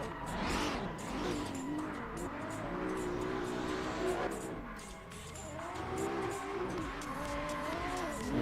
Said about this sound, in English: Konstantin leading in BMWs